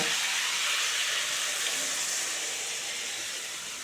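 Hot water poured into a pan of frying cauliflower and potato curry, giving a steady, close hiss and sizzle of steam and bubbling liquid that slowly fades over a few seconds.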